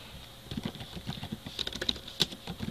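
Quick, uneven keystrokes clatter on a computer keyboard as a commit message is typed, close and clear with no voices.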